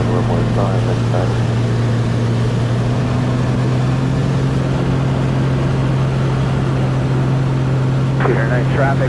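A Pitts S2B aerobatic biplane's engine drones in a loud, constant hum from inside the cockpit during a cross-country flight, with radio voices talking over it.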